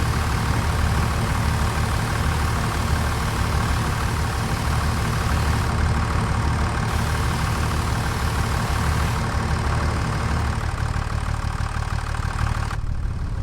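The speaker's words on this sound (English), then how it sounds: "Love the sound of the tractors." A tractor engine idles in Farming Simulator 25 with a steady, close, low diesel rumble that holds evenly through the whole stretch, with no talking.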